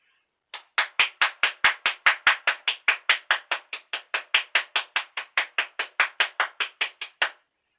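A lone person applauding a performer, about thirty sharp, evenly spaced claps in a steady rhythm, close and clear with no crowd or voices around them.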